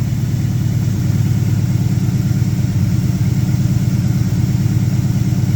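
A 1972 Pontiac LeMans engine idles steadily as it warms up before carburetor tuning, a loud, close, even low rumble with no talk over it.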